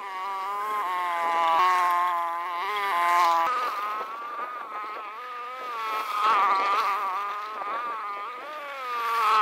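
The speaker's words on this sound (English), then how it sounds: "sorry about the noise in the background, we're right next to the road where I'm filming this." Road traffic passing beside a rural field, with engine drones rising and falling as vehicles go by, moderately close and steady, without speech.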